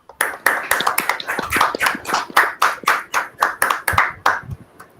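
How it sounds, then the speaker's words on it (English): A Teachers' Day celebration audience gives teachers a big round of applause: close, loud hand clapping in a quick uneven rhythm that swells and dips in waves, with no talking. "Let's welcome all the teachers with a big round of applause"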